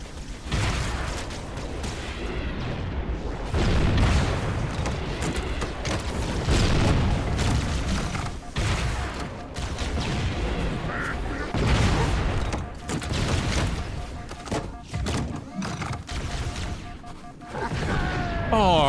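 Rocket launcher blasts and heavy gunfire in the video game Halo: Combat Evolved, a dense, continuous barrage of booms and rattling shots, loud and close, with someone talking over the battle noise.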